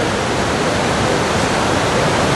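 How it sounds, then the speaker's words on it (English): A waterfall in Glacier National Park, swollen with clear blue water, roars as a loud, constant, unbroken rush that fills the whole space, with no voices. "beautiful falls here in Glacier National Park"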